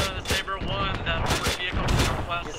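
Vehicle-mounted weapons fire in ARMA 3, with rapid bursts of loud, sharp gunfire in an uneven rhythm that keeps going throughout, mixed with scattered voices.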